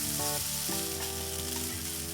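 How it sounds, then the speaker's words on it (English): Green beans with chili paste and garlic sizzle loudly in a hot pan during stir-frying, a dense continuous hiss up close with a faint background hum underneath. "Now I'm just going to stir fry this together until the green beans are evenly coated with the chili paste and garlic"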